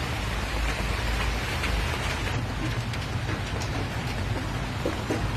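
Heavy rain pours steadily all day over a rural path to a market, a dense, loud, unbroken roar of drops hitting the ground and surfaces.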